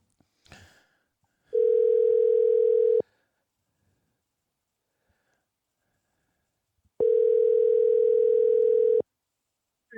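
An outgoing telephone ringback tone while calling the next caller: two long, steady electronic rings of about 1.5 seconds each, separated by a long silent gap.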